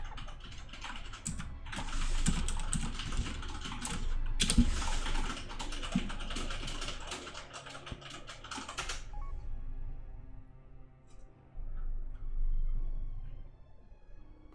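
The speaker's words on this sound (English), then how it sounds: "you noticed he was back by the sound of his typing" Fast typing on a computer keyboard during a World of Warcraft session, a steady close clatter of keystrokes running for several seconds before breaking off, then a quieter stretch with a few scattered clicks.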